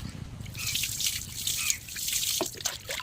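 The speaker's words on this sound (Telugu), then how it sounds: "ఇంకా నీళ్ళు పోసేసి తగ్గిస్తున్నాము" Water splashes and trickles steadily as it is poured, close by, with a bright, bubbling flow that continues throughout.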